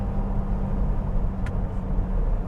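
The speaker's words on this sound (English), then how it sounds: "This engine just pulls and pulls." Engine of a restored 1961-era Jaguar E-Type XKE coupe under way, a steady low rumble with road noise that holds evenly throughout, close and continuous with no talking.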